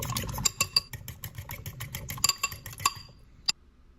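A whisk clinks rapidly against a bowl of pepper and garlic salt, a fast run of sharp metallic taps close up, slowing into a few final knocks before stopping.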